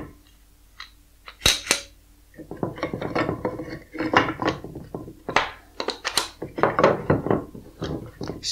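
Two scrap pieces of wood and woodworking clamps handled in a workshop, with a sharp knock and then a string of clattering thuds, clacks and scraping contacts at close range.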